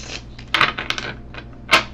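Tarot cards are shuffled up close, with a few quick papery riffling bursts separated by short pauses.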